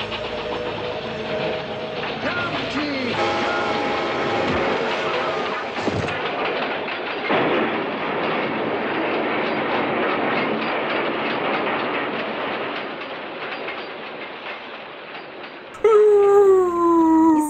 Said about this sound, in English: here, if you look at the train scene